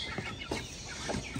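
Close chicken clucking comes in a few short, soft, throaty bursts over a quiet background, with no talk.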